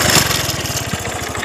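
A motorbike engine runs near a river in farm country, its close, rapid low putter steady and loud for a brief moment with no voices.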